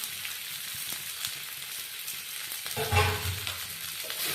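Garlic and spices sizzle steadily in hot oil alongside fried eggplant, a soft continuous frying hiss with a brief louder flare and occasional spoon scrapes, no voices.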